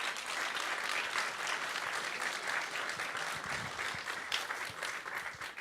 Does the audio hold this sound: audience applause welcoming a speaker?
yes